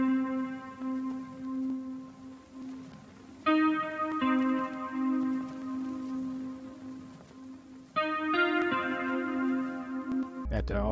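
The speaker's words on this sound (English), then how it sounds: "So I added on a fruity reverb, I added effect rack using the long delay channel strip," A guitar melody processed with reverb, a long delay and a vintage chorus effect rings out in sustained, shimmering notes, with new phrases entering twice over a steady tone before an abrupt low thump at the end.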